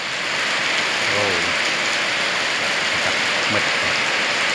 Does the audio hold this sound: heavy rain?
yes